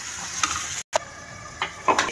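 A paste of cashew, makhana and almond sizzles in a hot pan as a spoon stirs and scrapes it, with a brief silent gap and a few clinks, close and alone without voices.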